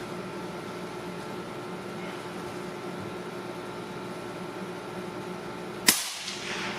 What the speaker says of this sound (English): I'm going to shoot a bullet hole first.